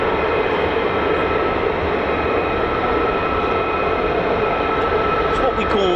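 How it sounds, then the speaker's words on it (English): F-35 fighter jets fly over RAF Lakenheath, a loud, continuous jet roar that fills the whole stretch without letting up. "I can hear F-35s, I can hear everything."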